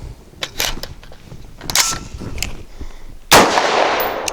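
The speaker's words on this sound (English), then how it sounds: "Locks back, drops free." Handgun magazine, a steel D&H or Amend 2 polymer type, released from a DSI Variant 1 pistol as the slide locks back: a few sharp metallic clicks, then a louder clatter as the magazine drops free, close and alone.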